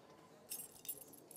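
Keys jangle in the Life is Strange video game, a couple of short metallic clinking bursts sounding close and fairly quiet over a low background hum.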